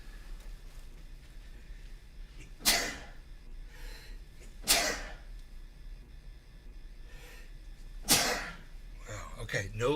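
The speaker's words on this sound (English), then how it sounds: "I gotta sneeze here" Three sudden loud sneeze-like bursts at intervals over a low steady background hum, with faint breathy noise at the end.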